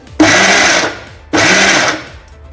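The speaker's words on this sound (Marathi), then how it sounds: "आता मी ऑन ऑफ करत हे थोड़स वाटून घेते" A mixer grinder grinding a sesame and jaggery mixture whirs loudly in two short bursts about a second each, switching off briefly between them, with no speech.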